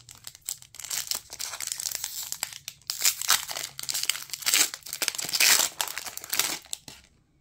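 A Pokémon Brilliant Stars booster pack is torn open and crinkled up close, giving loud, continuous foil crackling and tearing in uneven bursts before it stops.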